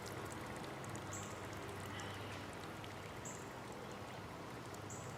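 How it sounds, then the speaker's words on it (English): Water pours and drips through a charcoal filter in a steady continuous trickle, with faint occasional high clinks in the background. "Again, this is filtering water."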